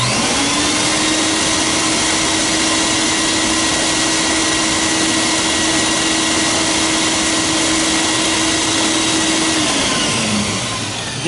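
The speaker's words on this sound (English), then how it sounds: "this being a true bypass vacuum and having a separate cooling fan" A Silver King bypass vacuum cleaner motor with a separate cooling fan roars loudly and steadily with a constant high whine, then winds down near the end.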